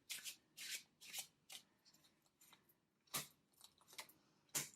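Tarot cards being shuffled in a series of quick riffling bursts with brief pauses between them, close and fairly quiet, with no voices.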